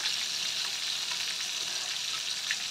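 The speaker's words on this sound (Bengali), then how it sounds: "এখানে আমার পটলগুলো ভাজা ভাজা হয়ে এসছে" Pointed gourd (potol) fries in hot oil, a soft, even crackling sizzle that holds steady throughout.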